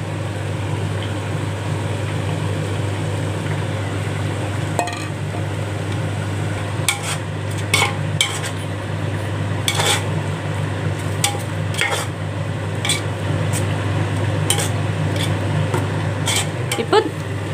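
Onion and green chilli paste sautéed in a pan for a chicken biryani: a steady low sizzle runs throughout under a constant mechanical hum, with sharp spoon scrapes and clinks increasing in the second half.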